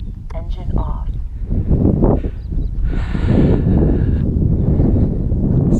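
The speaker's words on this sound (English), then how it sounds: "No breeze there 5 minutes ago, now it's blowing a gale." Strong outdoor wind gusts buffet the microphone in rough, uneven bursts, with a person talking intermittently over the blustery roar.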